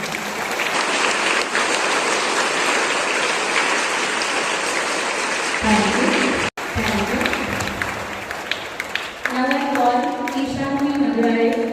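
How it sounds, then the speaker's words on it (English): A big round of applause for the maintenance staff at a staff day celebration, steady crowd clapping for several seconds, briefly cut off, then continuing as voices and tonal sounds rise over it. "give a huge round of applause to our maintenance staff"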